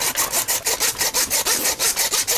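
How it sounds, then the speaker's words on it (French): A hand saw cuts through a red deer's spine, rasping in quick, regular back-and-forth strokes about five per second, close and loud with no voices. "on peut y aller avec la scie aussi"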